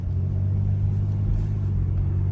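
A Chevy Impala pulls away on a test drive after a speed sensor repair, its engine note a steady low rumble that rises gently as it accelerates, close and continuous with no talking.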